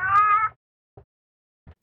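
A cat gives one clear, loud meow in a horror film scene, followed by two short faint sounds in near silence.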